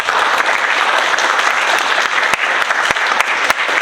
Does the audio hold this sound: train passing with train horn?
no